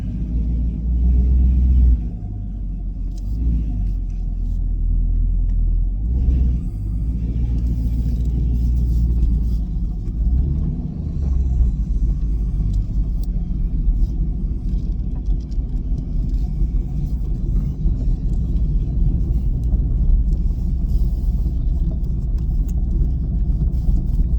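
A 2024 Chevrolet Camaro with the LT1 V8 cruises along with a steady, deep engine rumble and road noise from inside the cabin, briefly swelling early on, with no talking.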